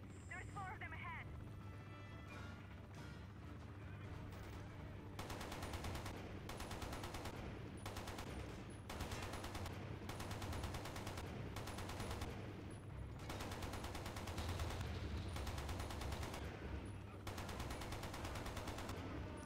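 Minigun fire in the video game Quantum of Solace, long sustained bursts of rapid gunfire broken by short pauses, loud and close over a steady low game rumble.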